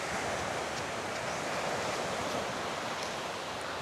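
Steady broadband wash of sea surf at a beach in Mabini, Davao de Oro, continuous and fairly even, like waves breaking at a distance with a faint windy hiss on top.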